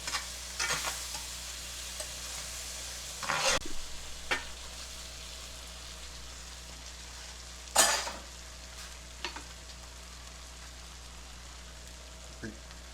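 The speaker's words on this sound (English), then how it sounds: "I was scraping the bottom of my stainless pan" A utensil stirs in a stainless steel pan of Salisbury steak gravy, with a low frying sizzle throughout and a few sharp scrapes against the pan bottom at scattered moments; no one speaks.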